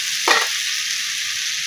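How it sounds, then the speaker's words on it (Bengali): Carrot, eggplant and peas fry in a pan with a steady, bright sizzle throughout, and a brief scraping stir cuts in near the start; no one speaks. "এই দেখুন আমার ভাজা ভাজা হয়ে গেছে।"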